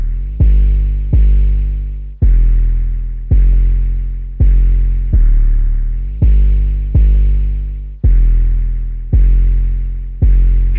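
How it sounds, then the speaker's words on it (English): A Bull 808 bass in an ambient jerk beat booms in a regular series of heavy, sustained tones, each sliding note decaying slowly before the next one lands, loud and deep with a faint buzzing upper edge. "For the 808, I use this Bull 808."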